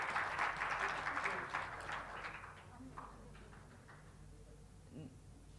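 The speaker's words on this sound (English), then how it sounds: "please give them a round of applause" An international conference audience claps for the speakers and moderator, the applause strongest at first and tapering off over a few seconds into quiet room sound.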